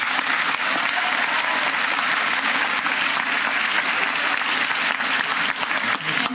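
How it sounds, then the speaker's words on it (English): Steady, sustained applause from a large audience at a graduation ceremony, dense and loud throughout without pause. "Let's get a round of applause for them."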